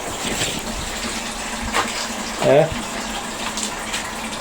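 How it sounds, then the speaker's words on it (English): Water gushing from a hose or tap into a big garden water butt, a steady rushing splash with a brief louder burst near the end, while a person briefly speaks. "Just fill it with water."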